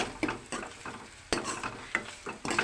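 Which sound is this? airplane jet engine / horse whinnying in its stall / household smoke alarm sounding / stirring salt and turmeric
stirring salt and turmeric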